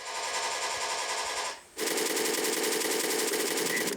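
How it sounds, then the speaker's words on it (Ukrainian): Rapid Kalashnikov rifle fire from a simulator rattles in two long continuous bursts, separated by a brief pause, loud and close. "На такому тренажері військовослужбовець Артем навчається стріляти з автомата Калашникова та рушниці по fpv дронах і баражувальних боєприпасах ланцет."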